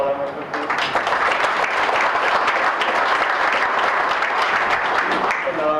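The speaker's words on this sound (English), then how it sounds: "So a round of applause for all them real quick, please." A banquet crowd at a fire department installation dinner breaks into loud, dense applause that swells quickly and carries evenly for several seconds before fading at the close.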